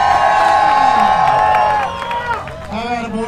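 A drift event crowd roars and cheers, loud and close, with a sustained swell of voices that breaks into scattered whoops and shouts as it fades.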